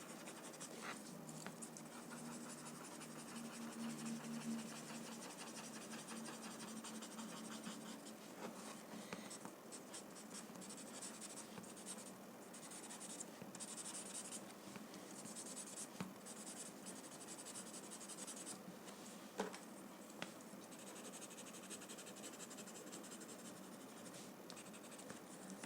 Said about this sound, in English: pick up another blending stud and soften the graphite